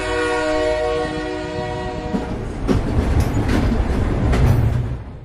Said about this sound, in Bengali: ট্রেনটা আবার চলতে শুরু করলো।